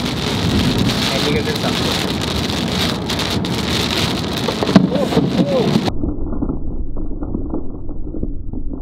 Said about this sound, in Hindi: बहुत तेज बारिश है, बहुत ज्यादा तेज